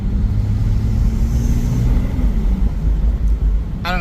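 A BMW B58 engine fitted with a titanium racing intake, heard from inside the car with windows down: a steady, loud low rumble and drone under light road noise, holding throughout.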